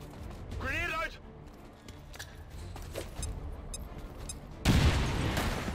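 A grenade blast and gunfire from the XCOM 2 video game: a rising whine and rumble early on, sparse pops and clanks, then a heavy, sustained roaring burst near the end, heard under a player's voice.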